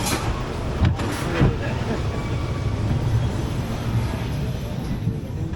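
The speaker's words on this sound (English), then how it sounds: "Scenic Railway. It has no restraints. And there's also a brake limit." A Scenic Railway roller coaster train with no restraints runs at the Prater in Vienna, giving a loud, steady rumble and roar close by, with brief louder clatters near the start.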